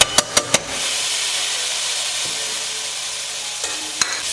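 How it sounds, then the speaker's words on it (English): Rinsed, drained lentils are stirred into a cumin-spiced frying mixture for a lentil cottage pie: a few sharp utensil knocks open, then a steady close sizzle with occasional clinks as the stirring goes on, no talking. "And you are going to mix your lentils in."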